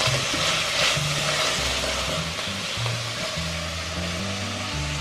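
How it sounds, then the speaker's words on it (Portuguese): Onion sautés in hot oil with a loud, continuous sizzle that holds steady and close throughout, with no voices over it. "E vamos pôr a cebola pra refogar"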